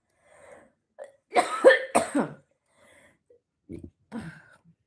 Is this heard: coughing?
yes